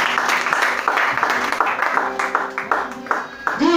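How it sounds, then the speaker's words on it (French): A church congregation at worship claps and applauds in acclaim of Jesus, a steady, dense patter of hands over voices and background music. "On acclame Jésus"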